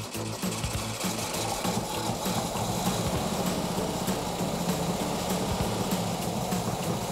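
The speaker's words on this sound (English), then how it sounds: "Sounds like it's just running on one carb." A Porsche Speedster engine runs rough on only one working carburetor, with a steady, loud, buzzing drone and a fast, uneven rhythm throughout, close by and with no talk.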